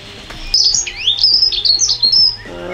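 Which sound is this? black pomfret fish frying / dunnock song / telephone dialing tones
dunnock song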